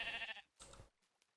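Sheep in a Minecraft modpack game (Resonant Rise) give two short, quiet bleats in quick succession, with nothing else heard around them.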